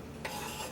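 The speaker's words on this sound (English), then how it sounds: "I'm going to start first with the green onions and the garlic" Green onions and garlic hitting hot oil in a pan, a short burst of sizzling over a stir, brief and fairly quiet.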